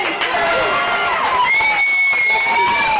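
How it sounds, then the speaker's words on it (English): Spectators at a women's football match in Penguin cheer and rise in a steady, loud roar with shouts and whistles layered on top, and a commentator talks over it. "The crowd just rising here a little bit in Penguin."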